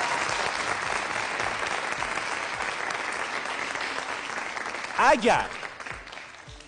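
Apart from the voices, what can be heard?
audience applause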